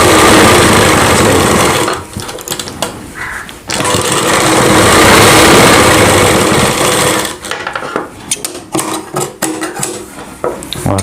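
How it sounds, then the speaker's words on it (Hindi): A sewing machine runs in long, loud, steady bursts while stitching the side seams of a Rajputi kanchali blouse, stopping briefly between runs with short stuttering starts near the end. "अब हमें दोनों साइड में सिलाई लगा देंगे।"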